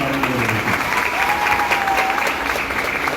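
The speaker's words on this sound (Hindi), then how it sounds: "मैं चाहूंगा एक जोरदार ताली आप लोग खुद के लिए बजाइए" Audience at an achievers' celebration show applauds loudly and steadily, a dense continuous clapping with some voices mixed in.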